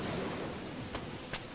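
Rain in a survival game set on tropical islands, a short burst of dense, steady rainfall hiss with a couple of faint sharp ticks of drops.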